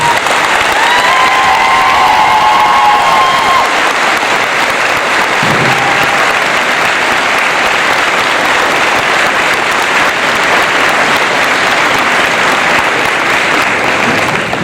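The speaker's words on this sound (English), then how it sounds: "Please join me with asking them to stand and giving them a great round of applause." A large graduation audience at Clinton Community College applauds faculty and staff, a dense, loud, steady roar of clapping that holds for the whole stretch, with a few faint cheers early on.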